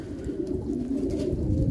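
Fancy pigeons coo in a short, low, soft burbling call that is close and steady, heard alone without talk.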